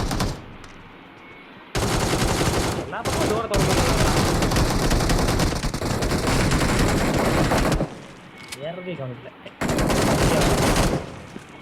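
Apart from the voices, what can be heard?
gunfire in the video game BGMI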